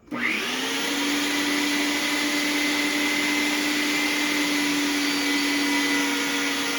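An electric meat grinder runs a finer second grind of mixed meats for hamburger, a loud steady motor whine starting abruptly and droning on unbroken with no voices.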